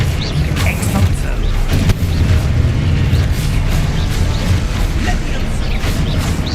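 Repeated Expulso explosion spells blast in Hogwarts Legacy, a loud, dense rumble of booms and crashing debris running continuously, with cracking bursts layered over a heavy low-end roar.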